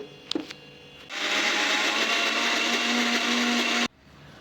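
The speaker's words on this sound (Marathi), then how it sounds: "तर चला आपण आता हे मिक्सरमध्ये फिरवून घेऊ" A kitchen mixer grinder grinds soaked mixed dal with peeled garlic, starting with a few clunks before a loud steady whirring grind that runs for nearly three seconds and then cuts off abruptly.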